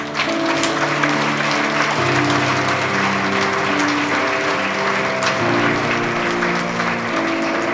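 Audience clapping at the opening of a francophone energy regulators' workshop in Kinshasa, a sustained even applause over background music with sustained tones, loud and continuous throughout.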